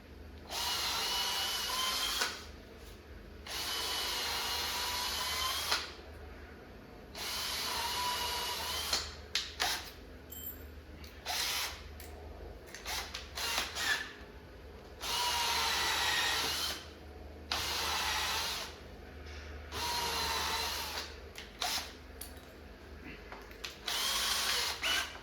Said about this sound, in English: we can drill a couple holes